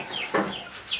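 Brief close clucking and chirpy calls from chickens, a few quick notes over a soft background.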